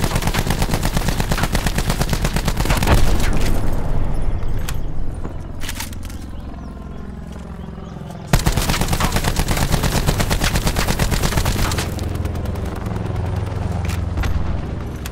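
Rampart 17 rifle in the Black Ops 4 video game fires in long rapid automatic bursts, a dense rattling stream of close, loud shots with a brief pause midway before firing resumes.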